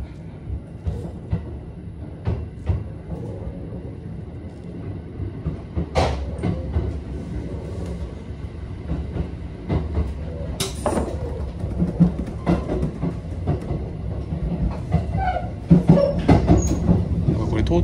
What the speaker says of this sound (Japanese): 列車動き出しましたね。